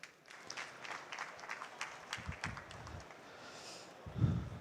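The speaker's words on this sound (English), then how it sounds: "Big applause." Audience at a cloud sustainability conference gives faint, scattered applause for an incoming speaker, a few distinct claps over low background with a soft thump near the end.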